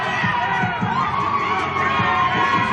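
A crowd at a boxing press conference in Las Vegas cheers and whoops loudly and continuously, a dense close roar with scattered shouts and yells throughout.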